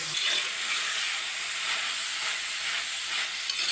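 Bitter gourd sautés in hot oil in a pan, producing a steady, loud, close sizzle and hiss that runs unbroken throughout, with no voices.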